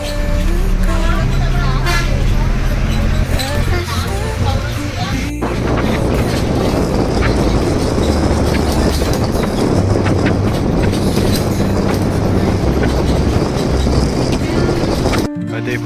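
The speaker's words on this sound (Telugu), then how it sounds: "భద్రాచలం బస్ స్టాండ్ నుంచి బయలుదేరింది బస్సు." A bus pulls away from the Bhadrachalam bus stand and drives on, its loud, steady engine and road rumble filling the scene with wind buffeting the microphone and voices talking over it.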